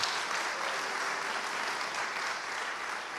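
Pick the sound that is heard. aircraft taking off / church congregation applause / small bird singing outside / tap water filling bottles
church congregation applause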